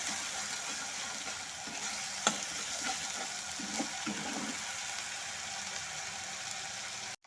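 Ginger and green chili fried in a pan, a continuous hissing sizzle with a few soft stirring scrapes and clacks partway through, close and steady until a sudden cut at the end.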